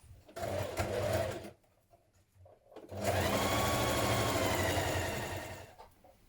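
A sewing machine stitches the lining of a dungarees bib in two loud runs, the first about a second long and the second longer and steady, with a short pause of quiet fabric handling between them.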